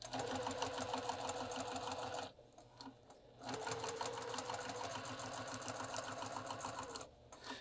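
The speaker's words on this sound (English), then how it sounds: "So I'm going to stitch all along the top, very close to those teeth." A sewing machine stitching along a pillow zipper, running in fast continuous whirring bursts with a brief stop and restart, then a second pause near the end.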